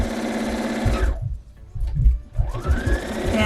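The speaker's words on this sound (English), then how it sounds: "if you don't have a sewing machine that stops with the needle down" A sewing machine runs in close, loud bursts of fast, even stitching, pausing briefly in the middle before the motor whirs back up to speed while sewing a wallet.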